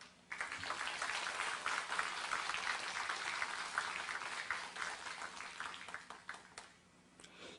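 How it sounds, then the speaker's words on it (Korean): Applause from a seated forum audience welcoming an introduced guest, a dense, steady patter of many hands lasting several seconds at moderate distance before tapering off. "한 분 한 분 소개해 드릴 때마다 큰 박수로 맞이해 주시기 바랍니다."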